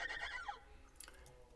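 A synthesized horse neigh from a GarageBand sound effect on an iPhone, one short descending whinny followed by faint clip-clop taps, quiet and alone.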